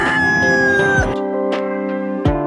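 An American Brahma rooster lets out a loud, close crow that trails off into a few short clucking calls.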